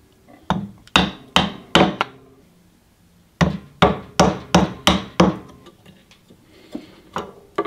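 Sharp hand strikes from working around a wooden piece with a chisel while building a VHS tape string maker ring out in close, loud bursts, two runs of about four to six evenly spaced knocks with a few softer taps.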